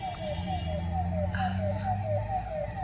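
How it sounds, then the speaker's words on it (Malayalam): An ambulance siren wails steadily in the distance with a repeating rising-falling tone, over low traffic rumble and engine hum, near Palakkad Fort. "ഏതോ ആംബുലൻസ് തിരക്കിട്ടോളുന്നുണ്ട്"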